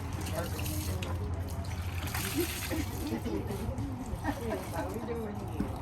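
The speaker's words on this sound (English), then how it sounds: "Yeah, if you'll pour that out." Muscadine wine must being poured out during home winemaking, a continuous liquid splashing and trickling under steady background noise, with people talking over it.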